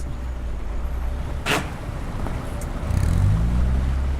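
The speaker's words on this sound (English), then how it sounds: "Cars make their way up the ramp of the Bad Honnef ferry, which carries people and vehicles across the Rhine" Cars driving up the ramp of the Bad Honnef car ferry on the Rhine, a low engine rumble under wind, with a sharp clank midway and a heavier vehicle surging near at the end.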